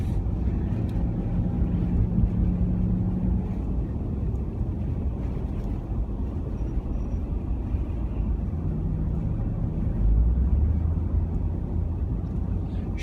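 A Lexus GX 460 with four-wheel drive on a snowy road, heard from inside as a steady low road and engine rumble with wind noise, plus a brief rising engine tone near the end.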